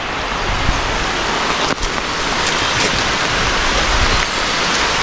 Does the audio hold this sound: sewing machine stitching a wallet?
no